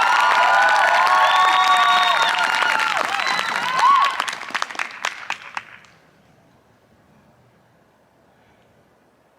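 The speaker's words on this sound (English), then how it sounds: "Round of applause." A crowd at an arts academy open house performance applauds and cheers to welcome a student performer, loud clapping with bright shouts that thins into scattered claps and fades to near silence.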